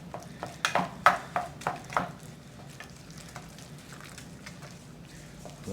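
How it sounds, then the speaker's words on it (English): Churro dough being stirred by hand in a bowl, a run of close, wet stirring and slapping strokes for the first couple of seconds that then settles into quieter, softer mixing. "So we're mixing."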